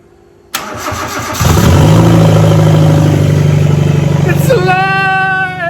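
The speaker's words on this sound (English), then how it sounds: "Sounds like a V8." A rebuilt V8 car engine with no exhaust connected cranks briefly on the starter, then fires and settles into a loud, raw, steady idle, with a rising whine near the end.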